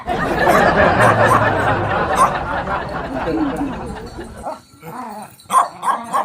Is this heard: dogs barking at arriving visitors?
yes